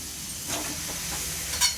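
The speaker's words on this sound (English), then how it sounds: "Should give a good sizzle, and it does." A steady, fairly loud hiss of sausage, peppers and onions sizzling on a hot grill pan, continuous throughout with slight swells.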